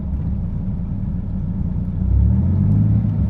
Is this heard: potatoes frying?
no